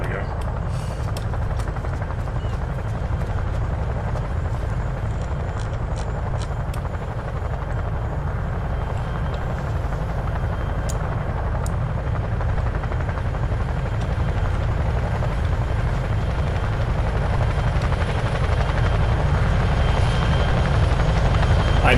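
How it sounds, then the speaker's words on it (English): Helicopter rotor thumping steadily overhead in a Vietnam War video game set in the Rung Sat, 1966, loud and continuous throughout, growing slightly louder toward the end. "I knew I heard another helicopter."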